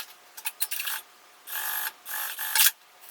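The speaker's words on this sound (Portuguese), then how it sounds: "E vou passar uma costura aqui," A sewing machine runs in short bursts, stitching along the edge of fabric bias binding on a small fabric wallet, with quick stop-start whirring runs and brief pauses between them, close and moderately loud.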